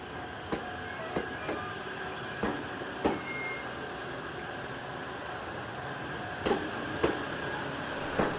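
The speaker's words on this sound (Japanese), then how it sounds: "列車は JR 東日本と JR 西日本の境界駅である南小谷駅に到着します" A JR train pulls into Minami-Otari station, the boundary between JR East and JR West on the Oito Line in winter, with a steady rolling rumble and a series of sharp rail-joint clacks and knocks at irregular intervals.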